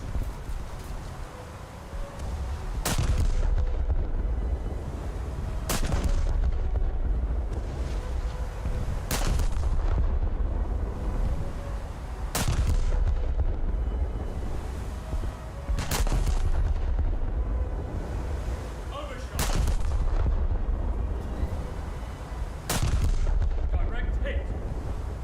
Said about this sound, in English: I think I need to start staggering my fire as well to keep up the heat a bit more. So firing every 3 seconds roughly.